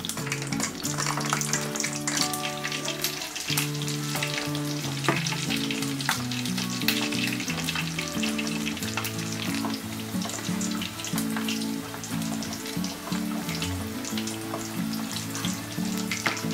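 Crispy pata, pork knuckle double-fried until super crispy, sizzling and crackling steadily in hot oil, a dense continuous bubbling hiss with no voices.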